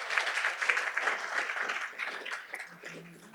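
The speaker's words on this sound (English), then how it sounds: "give yourselves a round of applause" A town-meeting reenactment audience gives a round of applause, moderate and somewhat distant, with the clapping tapering off toward the end.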